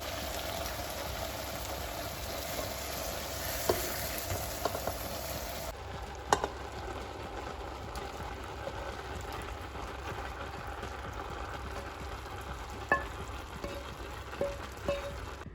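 Eggs fry on top of spiced rice in a pan, a steady soft sizzle running throughout with a few faint clicks and small knocks, fairly quiet and close with no talking.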